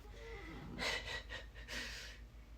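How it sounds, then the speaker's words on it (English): A French bulldog snores nearby, with raspy, snorting breaths in a few uneven pulls, fairly quiet over a low background hum. "If you hear snoring in the background"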